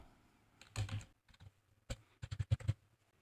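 Quick keystrokes on a computer keyboard as a character code is typed into MS Word, two short close clusters of crisp clicks separated by a brief pause, with no talk.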